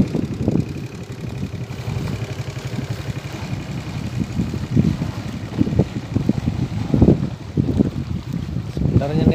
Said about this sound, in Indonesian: air bening tapi angin kencang nih, angin kuat